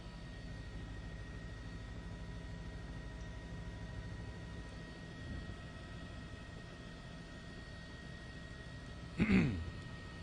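A news helicopter flying over Westbury, Long Island, makes a steady low drone of rotor and engine noise, with a brief louder burst near the end.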